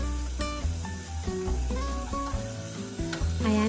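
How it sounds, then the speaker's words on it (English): Meat searing in hot olive oil in a deep pan for osso buco, a steady low sizzle mostly buried beneath louder background music throughout. "Just heating up some olive oil here in a pan and popping the meat in."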